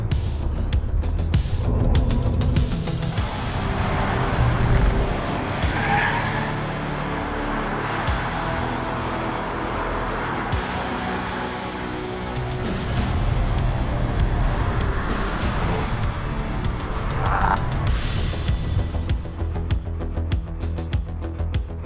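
BYD Seal electric car pushed hard around a race track, a fairly loud whirring motor and rushing road and wind noise rising and falling through corners, with occasional squeals and thumps.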